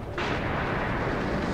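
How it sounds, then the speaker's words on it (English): A machine gun turret fires in the Dreadnought video game, a dense, sustained roaring burst that kicks in after a brief lull and holds loud and steady to the end. "Oh, about the machine gun turret sounds."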